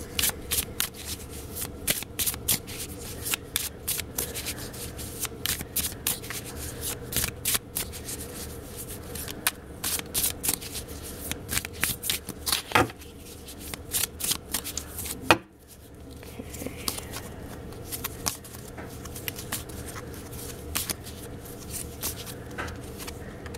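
Tarot cards are shuffled over and over in rapid, crisp riffling bursts, close and fairly quiet, with a brief pause partway through.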